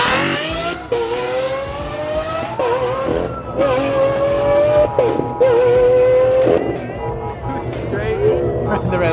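A Lamborghini Aventador with a twin-turbo engine revs loudly and up close, its howling tone repeatedly climbing and dropping in rising bursts while excited voices talk over it.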